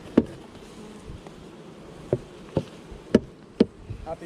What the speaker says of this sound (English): Oh, look at the bees in there.